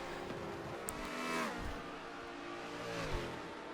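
A Porsche race car drives at Spa-Francorchamps with a steady, fairly distant engine drone that swells slightly twice as it passes, with no voices.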